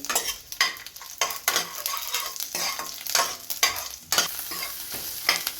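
Garlic and dried red chillies frying and sizzling in hot oil for rasam, with steady crackle and repeated stirring scrapes in the pan, close and fairly loud, no voices.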